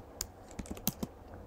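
A handful of soft Mac keyboard taps typing a web address, quiet and close, in an uneven quick sequence of about five keystrokes.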